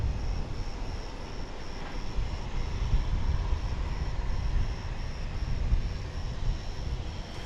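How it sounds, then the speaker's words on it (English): An American Airlines plane at DFW Airport gives a steady broadband jet roar, moderately distant, that swells slightly and holds without pause. "I think that's that looks to be American flight, identified as American Airlines Flight 13."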